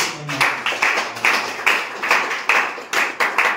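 A church congregation clapping together in a steady rhythm, loud, roughly seven or eight synchronized claps in a few seconds, with no talk over them.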